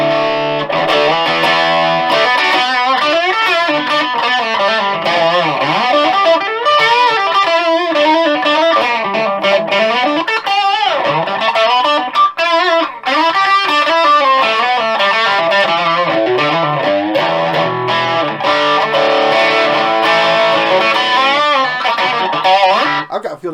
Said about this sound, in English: put some distortion on